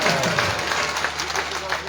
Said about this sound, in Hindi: आप भी एक बार जोरदार तालियां लगाई भाई